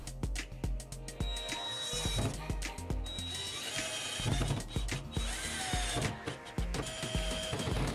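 A power drill or screwdriver drives self-tapping screws into glued wooden squares on a wooden panel. It makes loud, close bursts of motor whine with rattling, grinding screw noise that stop and start repeatedly.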